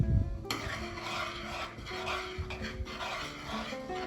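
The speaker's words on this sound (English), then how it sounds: "We're gonna stir it up again." A spoon scrapes and stirs through asparagus soup with vinegar added, a soft continuous rasping and swishing close up with a faint clink at the start.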